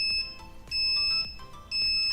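A smart fire alarm triggered by a flame sensor beeps loudly in repeating electronic tone pulses, roughly one per second, over a low whirring fan, with no talking.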